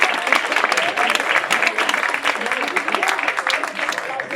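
Dense clapping fills a room after a Romeo and Juliet workshop at St. David's, loud and steady for a few seconds with no pause.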